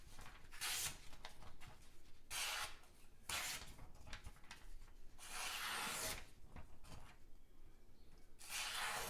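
A QSP Penguin knife slices through a magazine page in several long, hissing, papery strokes with short pauses between them, close and fairly soft.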